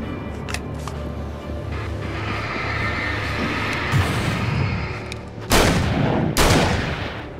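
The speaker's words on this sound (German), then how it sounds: "Als ob du mehr als zwei Schüsse aushältst" Gunfire in the video game Alan Wake cracks out in several sharp loud shots, with two heavy blasts close together near the end over a murky game backdrop.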